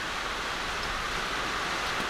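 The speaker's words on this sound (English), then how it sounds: "It's starting to piss down the rain, so I'm not going to be able to record too much audio out here." Heavy rain pours down outdoors at an aluminium stick-welding setup, a steady, dense hiss of falling water that stays loud and even throughout with no speech.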